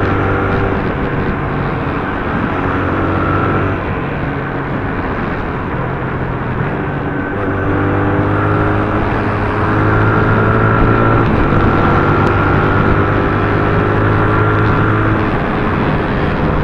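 Motorcycle engine held at high revs in fourth gear, around 6,500–7,000 rpm, then a quick clutchless upshift into fifth; a loud, steady drone fills the whole stretch with slight shifts in pitch and no speech.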